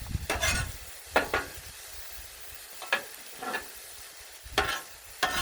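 Fries cook on a Blackstone griddle beside a cheesesteak, a soft frying hiss in the background broken by several scraping strokes of a spatula across the hot metal, close and with nobody speaking.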